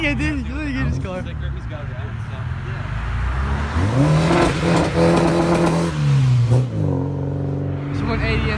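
A sports car revs at an outdoor car show, its engine rising in pitch around the middle and settling again, loud and close beneath steady crowd chatter and people talking nearby.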